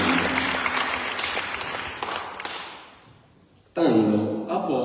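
Audience applause at an international conference in Palermo, several seconds of clapping that fades, followed by someone speaking.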